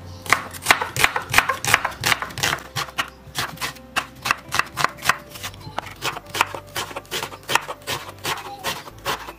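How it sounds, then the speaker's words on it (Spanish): A knife chops onion on a board for a lentil stew, giving a fast, steady run of crisp taps, close and fairly loud, with nobody speaking. "Vamos a picar cebolla para nuestro aderezo."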